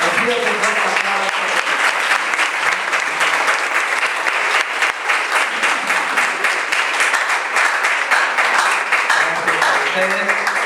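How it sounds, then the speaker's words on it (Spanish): Wedding guests at a ceremony in Cantel, Guatemala, clap loudly and continuously, a thick wash of many hands with faint voices and murmurs mixed in beneath it. "Les pido que nos aplaudan."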